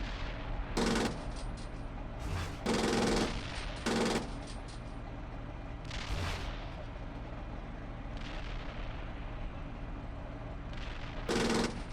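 Tank main gun fire in the Steel Beasts Pro PE combat simulation game, with several loud blasts spaced a second or two apart over a rumbling engine bed, each shot a sharp burst with a short tail.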